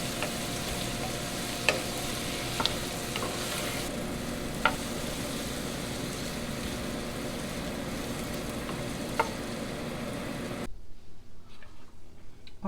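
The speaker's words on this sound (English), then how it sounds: "Let me go ahead and start my bacon." Bacon fries in a pan with a steady, close sizzle and crackle, broken by a few sharp pops, before the frying noise drops away abruptly near the end.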